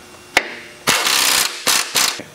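Ratchet wrench tightening a sway bar bracket onto a control arm during a coil spring install, with a sharp click and then three bursts of rapid, loud, close ratcheting.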